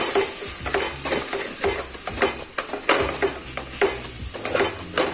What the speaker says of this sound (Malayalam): പൊടികളെല്ലാം നമുക്കൊന്ന് മിക്സ് ചെയ്യാം.